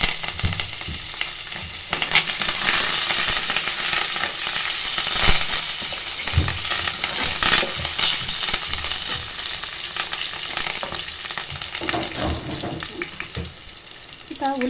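Green chillies and curry leaves frying in hot oil for a fish masala curry crackle and sizzle loudly up close, with stirring scrapes throughout and a brief watery splash near the end.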